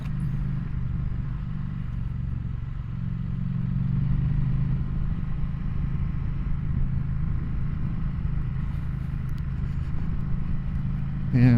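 Dual sport motorcycle riding a gravel road covered in loose, marbly gravel, a steady low engine drone with constant rumble and rattle from the surface, close and continuous throughout.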